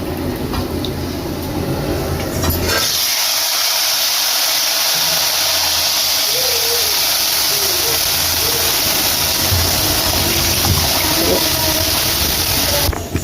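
Tamarind extract is poured into hot oil tempered with dried red chillies for puliyodharai, giving a sudden loud, steady hissing sizzle that carries on without pause.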